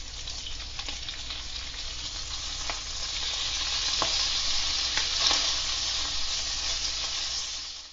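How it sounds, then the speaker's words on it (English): Bacon sizzles and crackles steadily in a frying pan, a dense close hiss with scattered pops that swells slightly midway, with no voices. "That sound of bacon kind of just rumbles around inside."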